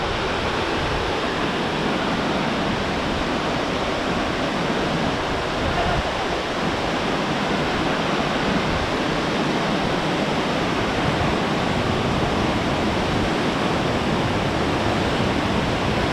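The Santa Bárbara waterfall in Chapada das Mesas, Brazil, gives a constant broadband roar of falling water. It stays loud and unchanging for the whole sixteen seconds and drowns out any other sound.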